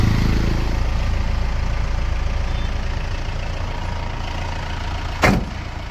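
A second-hand commercial vehicle's engine idles smoothly nearby, a steady low rumble that eases slightly in level, with a short sharp knock near the end.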